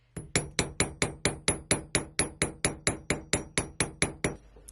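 A small hammer strikes a hardware store metal washer to texture jewelry, about nineteen evenly spaced sharp metallic blows at a fast steady rhythm, close and loud with no talk.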